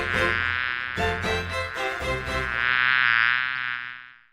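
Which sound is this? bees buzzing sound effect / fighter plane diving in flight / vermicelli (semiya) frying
bees buzzing sound effect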